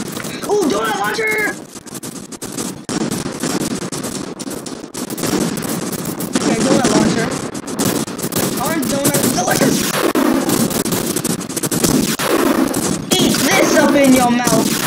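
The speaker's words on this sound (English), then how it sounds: "Ooh, donut launcher!" Rapid weapon fire from a donut launcher in a food fight video game, dense and continuous bursts running throughout, with people talking over it.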